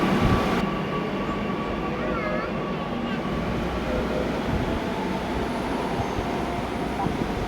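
Kochi metro train running through Pathadipalam station, a steady rumble and whine with wheel noise that holds for several seconds, under a voice speaking.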